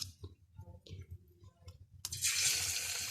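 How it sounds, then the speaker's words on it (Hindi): Fish marinated two hours lowered into hot cooking oil in a wok, a few faint clicks and shuffles, then a sudden loud sizzling hiss that bursts up and keeps going steadily, close by. "जो मछली मैंने रखी थी ब्रश पे 2 घंटे के लिए, अब इसे मैंने फ्राई करना है"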